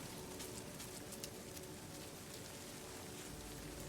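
Rain falls in No Man's Sky on a planet with radiation, a soft, even hiss of raindrops that runs continuously and faintly with no talk over it.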